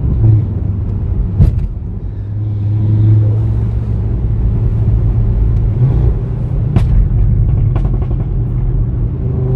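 An Audi RS3 with a custom tune idles with a deep low rumble, its engine and exhaust giving occasional short sharp pops and cracks over the steady drone.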